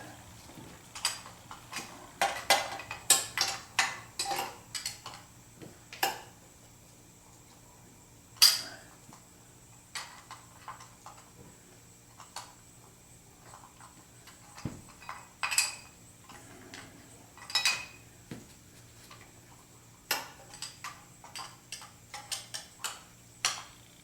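A wrench works the intake manifold bolts on a 1976 Corvette restomod, producing sparse metallic clicks, ticks and clinks in irregular bursts against a quiet background, close and fairly soft.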